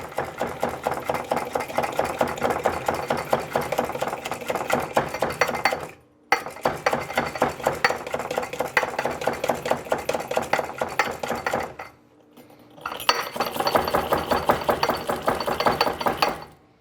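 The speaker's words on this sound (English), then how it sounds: "I'm going to mix this with my pogo whisk" A pogo whisk pumps through keto bun ingredients in a container, a fast rattling clatter in three long bursts broken by two brief pauses, close and steady.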